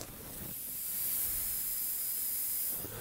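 A steady hiss of air leaking from a faulty valve on a cheap spray gun, rising in a short ramp and then holding constant for a few seconds before it cuts off.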